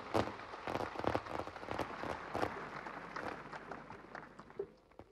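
A large outdoor crowd at a Marian pilgrimage in Popenguine claps in a dense, continuous patter, sustained for several seconds at moderate distance before thinning out toward the end.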